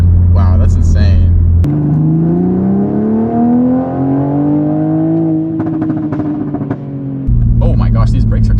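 A 500 hp Toyota Supra accelerates hard from a fourth-gear launch, its engine note rising steadily in pitch for several seconds before a shift. The drone is loud and close, heard from inside the cabin, with people talking before and after the pull.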